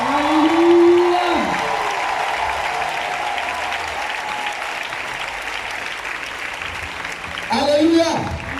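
A church congregation at a charismatic revival night in Côte d'Ivoire bursts into sustained applause and loud acclamation, with shouting voices rising over steady clapping and a fresh swell of cheers near the end.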